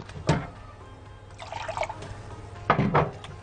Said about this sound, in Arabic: هزود بس الميه عشان ما تبقاش سخنه قوي